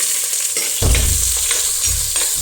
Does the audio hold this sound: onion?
yes